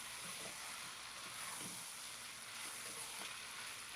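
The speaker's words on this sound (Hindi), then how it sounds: "अब आलू ऐड करने के बाद इनको भी हम चिकन के साथ फ्राई कर लेंगे।" Thick potato pieces frying with chicken in a pot for chicken aloo pulao give off a steady, faint sizzle with soft hiss and occasional light stirring clicks, with no voices.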